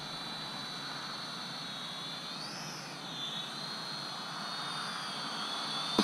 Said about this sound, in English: One more click will start the motors. Give it a little throttle and it'll boost up there.